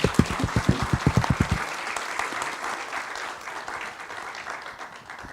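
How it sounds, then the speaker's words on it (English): An audience at a scientific forum plenary session applauds the keynote speakers and moderator, opening with a few loud, evenly spaced close claps before settling into a softer, dense wash of crowd clapping. "please give them another warm round of applause"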